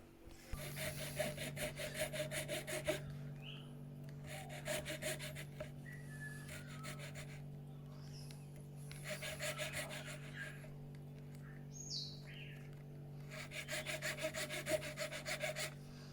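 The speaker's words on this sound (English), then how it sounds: "I'm going to take a file and I'm going to file this down" A hand file rasps against a small metal door lock part from a VW Touareg, repeated scraping strokes in rhythmic bursts with pauses between, fairly faint over a steady background hum.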